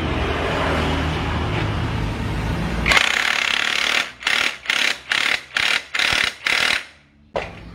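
Bolts on a Honda Supra motorcycle clutch are tightened with a power tool, a steady loud whir giving way to about six short rattling bursts separated by pauses.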